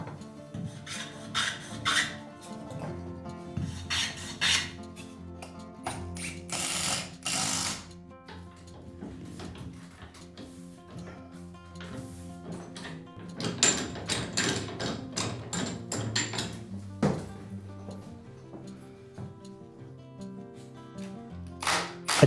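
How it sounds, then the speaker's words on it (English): A jack braced with a Japanese cypress hardwood joist forces structural pillars apart during interior joinery, giving close, intermittent bursts of rasping, ratcheting and creaking wood with quiet gaps between them and no talk. "To forcefully expand the space between the pillars, I'm going to use a jack horizontally."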